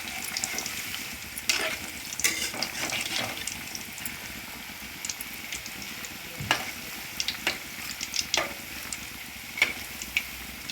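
Cabbage cutlet sizzles and fries in a pan, a close, soft hiss punctuated by scattered sharp crackles and pops, with no talking.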